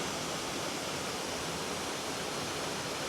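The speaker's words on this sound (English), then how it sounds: "the sound of the water thundering down" Steady, dense roar of a waterfall thundering down in Springbrook National Park, loud and continuous throughout with no breaks or voices.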